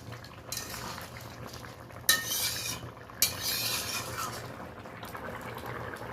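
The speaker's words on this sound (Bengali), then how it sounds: "মিশিয়ে নিচ্ছি ভালো করে।" Spices are stirred and mixed into a prawn and pointed gourd curry, with soft scraping and a few louder metallic clinks of a spoon against the pan under a low background hum. No one speaks.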